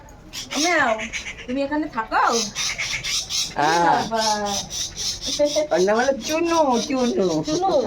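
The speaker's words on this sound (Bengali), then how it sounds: "দেখো কি সুন্দর পাখির আওয়াজ হ্যাঁ?" Birds calling outdoors in a rural yard with mango and jackfruit trees, loud repeated squawking and chattering calls close by in a dense, busy stream with no breaks.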